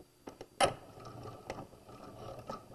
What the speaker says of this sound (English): put your machine on the regular stitch length and we're going to back stitch back to that pin